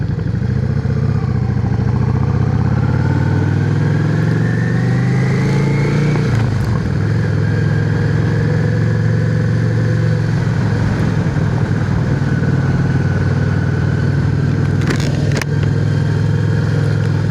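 A motorcycle ridden along Station Road toward a motorcycle shop gives a loud, continuous engine drone whose pitch climbs steadily early on, then holds at a steady cruising hum with a brief rattling burst near the end; no one talks.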